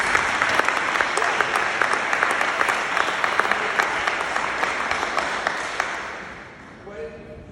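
Church congregation applauding for the Lord, a full, continuous burst of clapping that holds steady for several seconds before fading out, with voices mixed in.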